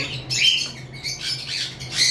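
Lovebirds, a cream-face fallow and a lutino, giving a few harsh, high squawks close by, in short bursts with brief gaps between them.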